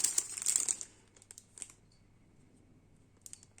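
Plastic packaging around a pack of paper flower stickers crinkles in a few quick bursts at the start, followed by quieter scattered rustles and ticks.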